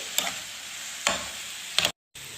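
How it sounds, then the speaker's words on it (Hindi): Soy sauce being stirred into chicken kachori filling in a hot pan, with three short scraping stir strokes over a soft background sizzle and a brief silent gap near the end. "मिक्स करेंगे इसको अच्छे तरीके से"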